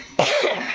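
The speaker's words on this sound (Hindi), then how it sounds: "बहुत खांसी आ रही है, बहुत खांसी आ रही है।" One sharp, close cough from a woman who is ill with fever and a cough, a sudden harsh burst that trails off into a rough, breathy tail.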